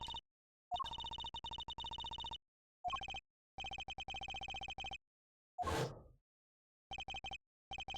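A cell phone in the Ace Attorney: Apollo Justice video game rings in repeated electronic bursts separated by short silences, with a brief game sound effect blip in the middle.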